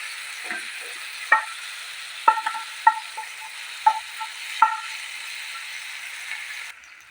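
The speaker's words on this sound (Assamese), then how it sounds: "গোটেইখিনি মই ভালদৰে ইয়াতে মিক্স কৰি ভাজি ল'ম" Masoor dal being stirred and fried in a pan over a medium gas flame, with a soft steady sizzle broken by several sharp clicks and scrapes of a spoon against the pan, and no voices.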